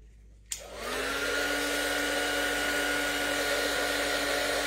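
A handheld heat tool switches on with a click and blows a steady, loud, close whirring hiss while drying an art journal page, holding an even drone until the end.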